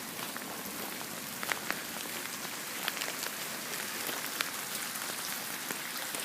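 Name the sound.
rain falling outdoors during a flood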